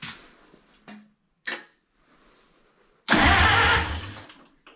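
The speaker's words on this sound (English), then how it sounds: "now let's test and see if it cranks" Oliver Super 55 tractor engine, fitted with a new group 34 battery, gives a few short separate cranking bursts, then catches and runs loudly for about a second before fading.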